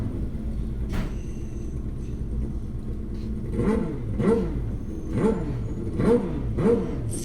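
Drag racing motorcycles at the start line, including a 1978 Kawasaki, with engines idling low and then blipping through a series of sharp, rhythmic revs, moderately close over a steady rumble.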